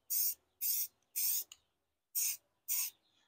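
Short bursts of aerosol spray paint onto a rifle, five or six hissing sprays in a loose rhythm with brief pauses between, close and fairly quiet.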